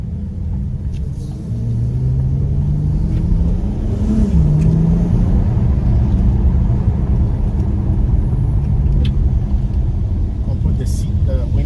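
A Dodge Challenger GT in sport mode gives a steady, loud low engine rumble with a brief rising rev, heard from inside the car.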